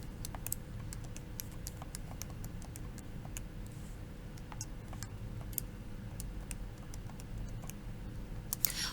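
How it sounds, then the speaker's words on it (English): A scientific calculator's keys are tapped in a steady sequence of small, crisp clicks, close and faint, over a quiet room hum. "So I'll go ahead and type this in."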